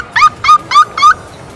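A human voice imitates a chihuahua, giving four short, high-pitched yipping barks in a quick, even rhythm, close and fairly loud.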